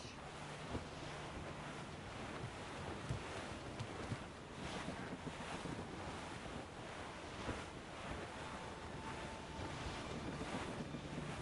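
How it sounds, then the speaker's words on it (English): Steady roaring wind and crashing waves in a rough squall at sea in Assassin's Creed Rogue, a dense unbroken rush of air and surf with occasional swells, quiet overall and with no speech. "That's quite a rough squall, Captain."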